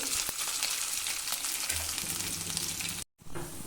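Ginger garlic paste frying in hot oil with cinnamon, cloves and cardamom for palak paneer, a steady close sizzle that holds throughout and breaks off briefly near the end.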